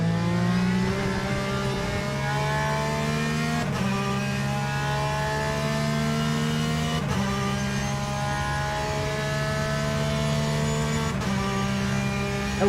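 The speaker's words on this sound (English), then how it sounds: "this Aston Martin's gonna just go right by" Engine of an Aston Martin race car in the game Le Mans Ultimate, a loud continuous drone with rising and falling pitch that shifts abruptly at gear changes every few seconds, with no talk over it.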